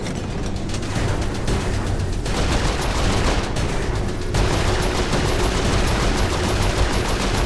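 Turret fire in Saints Row IV: a dense, continuous roar of rapid automatic shots layered with booming blasts, loud and unbroken throughout, with no one talking.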